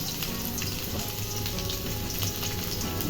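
Crushed garlic and cumin seeds fry in hot oil in a kadhai, making a dense, even sizzle that holds close and steady with no talking.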